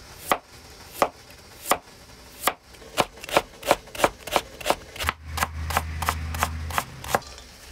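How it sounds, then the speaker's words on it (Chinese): A knife chops radish into thin strips on a cutting board in a steady series of crisp, close knocks, with a low hum entering midway. "切成细丝。"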